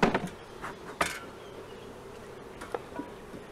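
Honey bees at an opened nucleus colony in a tropical apiary make a steady, close buzzing drone, with a few sharp knocks and bumps from handling the hive lid and frames.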